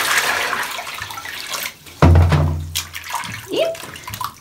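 Warm water gushes and pours steadily up close, with splashing and a low hollow rumble as a basin fills for rinsing a Pixie-bob kitten.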